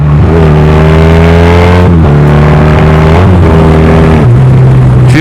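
A Honda Rebel 250 motorcycle engine blips sharply during rev-matched downshifts into third gear, loud and close, with the pitch jumping and settling several times.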